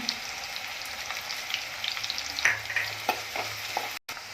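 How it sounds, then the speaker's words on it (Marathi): Chopped onion and garlic fry in a pan with turmeric as they brown, a steady close sizzle with a few stirring scrapes and clatters, no voices. "कांद्याला छान गोल्डन ब्राऊन कलर येईपर्यंत परतून घ्यायचं"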